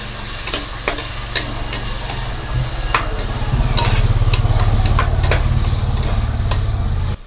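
Tomatoes fry in a hot pan with a loud, steady sizzle, while a spoon stirs and scrapes with repeated close clicks over the continuous hiss.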